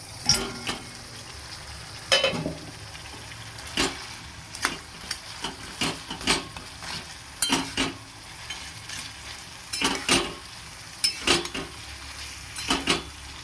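Tangra fish sizzle softly in a spiced pan while a utensil scrapes and knocks against it in irregular stirring strokes.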